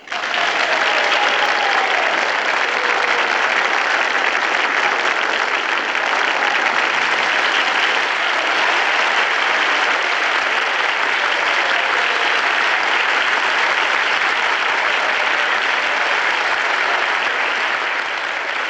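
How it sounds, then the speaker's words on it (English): A large crowd in a hearing chamber breaks into loud, sustained clapping that keeps an even, dense roar for nearly twenty seconds without pause or voices. "What are you clapping for?"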